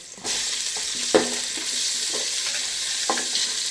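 Chopped onion frying for chicken biryani, with a steady bright sizzle in the pan and a few sharp clatters from stirring.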